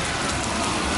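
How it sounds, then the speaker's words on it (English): Steady, dense rain falls in warm weather in Tanzania, a constant full hiss of drops with no pauses and no voices. "And it's raining out."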